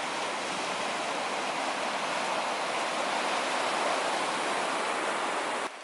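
Ocean waves at Botanical Beach make a steady, dense roar of surf, continuous and fairly loud, with no voices.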